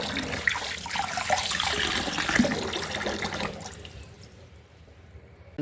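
Tap water gushes and splashes while ragi grain is washed, running steadily for a few seconds before cutting off into quiet drips.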